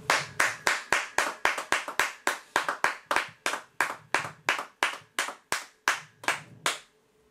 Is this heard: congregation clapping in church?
yes